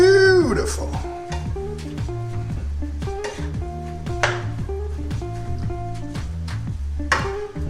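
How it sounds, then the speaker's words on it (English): Chicken stir-fry with garlic and ginger being stirred in a hot pan, steady sizzling under repeated scraping and clinking strokes of the utensil, with a tonal musical background running throughout. "Already got all that good garlic and ginger in there. Gonna give that a stir."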